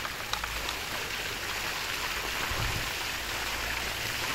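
Water gushes steadily from an opened fire hydrant being flushed by a fire department crew, a loud, constant broadband hiss and splash with no break, close by.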